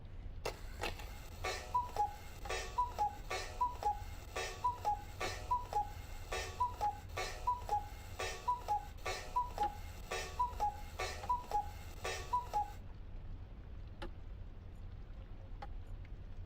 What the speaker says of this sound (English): I can't wind the clock up.